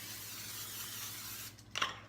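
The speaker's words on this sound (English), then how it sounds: "We want to spray it nicely" A short burst of olive oil from a spray bottle mists over an eggplant lasagna top, a soft brief hiss near the end after steady background noise.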